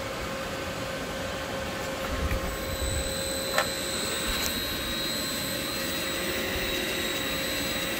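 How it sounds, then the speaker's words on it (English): A 20 horsepower variable frequency drive runs on 460-volt power supplied through a transformer, giving a steady electrical whine with layered tonal hum and a single sharp click partway through. "This one here, 20 horsepower variable frequency drive."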